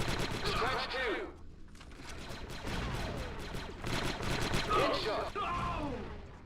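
Blaster fire from the video game Star Wars Republic Commando, rattling bursts of shots in rapid succession that come in two long stretches with a brief lull, partly under a talking voice.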